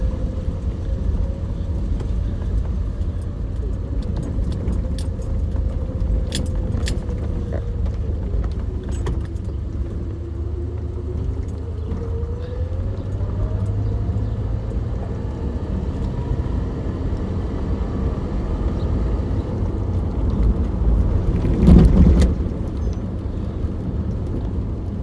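A 1985 Jeep Grand Wagoneer driving around the block, with a steady low engine and road rumble throughout, rising briefly near the end.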